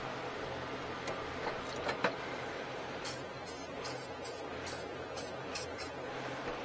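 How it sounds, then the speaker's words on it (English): Aerosol spray can hissing under a Mahindra 1526 tractor battery, several short close bursts in quick succession after a few fainter ones, at low level. "Spraying up under it because I'm trying to get some under there."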